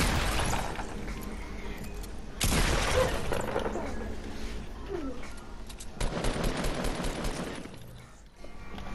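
Rapid bursts of automatic gunfire in the Fortnite video game, loud and sustained, in two dense stretches with quieter game noise between them.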